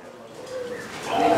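A perkutut zebra dove cooing, a short soft tonal coo rising in loudness toward the end, close and clear over a quiet background.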